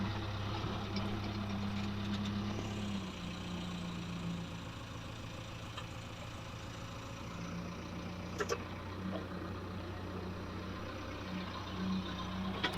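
A John Deere 5310 tractor with a front loader bucket pushing and levelling soil runs with a steady low engine drone and rumble at moderate distance, without speech.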